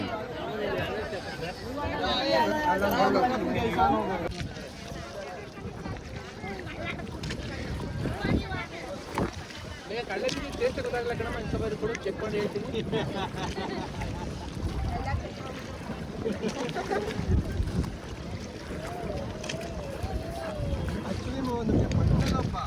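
Boats carrying pilgrims on the water at Prayagraj during the Maha Kumbh. Steady wind and water rush run throughout, with people talking over the noise.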